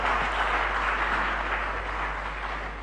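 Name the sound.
audience applause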